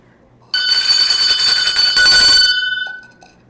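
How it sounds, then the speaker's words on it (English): A bell rung to mark a correct answer on a live show, giving a sudden loud, sustained metallic ring for about two seconds before fading out. "ring the bell on the streets"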